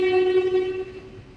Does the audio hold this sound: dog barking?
no